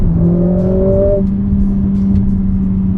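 A Mercedes-AMG A45 S pulls hard in second gear with manual shifting, its engine note rising steadily and loud from inside the cabin, then easing into a steady drone.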